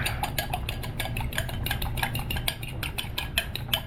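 An egg being beaten in a bowl for noodles, a utensil clicking rapidly and steadily against the bowl at close range with no talking.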